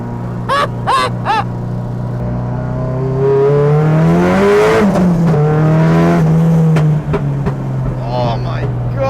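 A Nissan S13 drift car with a sequential gearbox roars loudly through rising and falling revs, with a few sharp pops at the start. A person speaks over part of the engine noise.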